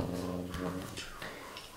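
Dogs growl in a short, low, rough burst during a tabletop role-playing session. The growl is close and continuous, then fades over under two seconds.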